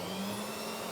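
A Ridgid 535 pipe threading machine with a high-torque motor runs at a steady, even whir, with a continuous hum held close and unchanged throughout.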